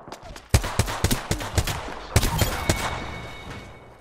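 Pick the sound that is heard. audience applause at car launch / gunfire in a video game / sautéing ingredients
gunfire in a video game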